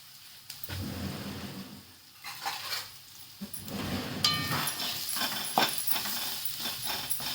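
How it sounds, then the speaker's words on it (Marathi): Masala with a pinch of asafoetida roasting in a hot pan for village-style spring onion greens curry: steady sizzling with scraping stirs and light clinks, moderately close and continuous. "मसाला टाकून घे हा मसाला चांगल्या भाजून घ्यायचा"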